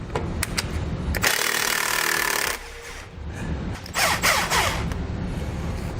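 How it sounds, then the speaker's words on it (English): A 3/4 inch socket wrench loosens nuts while helper springs are fitted to a 2014 vehicle, giving a sustained metallic ratcheting rasp and scattered sharp clicks and knocks, close and fairly loud, with no talk. "Take a 3/4 inch socket and we're going to loosen the nuts."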